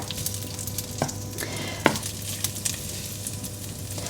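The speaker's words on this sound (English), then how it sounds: "I can just now hear the vegetables just beginning to warm, so I'll give them a bit of a stir." Vegetables begin to sizzle softly in a pan on the stove, a steady low crackle broken by a few scraping stirs of a utensil against the pan, close and fairly quiet with no talk.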